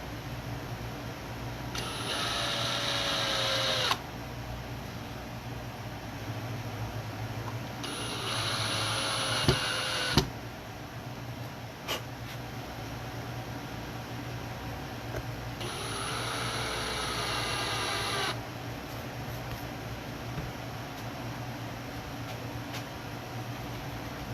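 A power driver set to very low torque fastens small screws into a guitar, three separate whirring bursts of a few seconds each with quiet pauses between, close and fairly loud.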